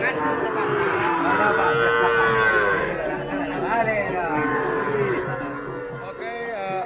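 Cattle lowing at a busy livestock market on Sapudi Island, several moos rising and overlapping close by amid steady crowd chatter and voices throughout.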